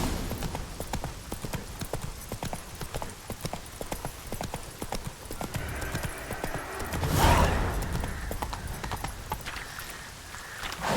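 A horse gallops in The Witcher 3: Wild Hunt, with rapid, rhythmic hoofbeats at moderate loudness, a brief louder burst midway, then slowing.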